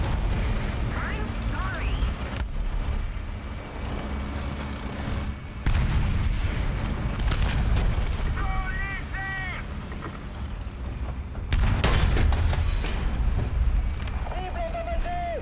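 Tank cannon blasts boom from an AMX-40 French main battle tank in War Thunder, several heavy thuds spread across the stretch amid rumbling engine and battle noise, with someone talking over much of it.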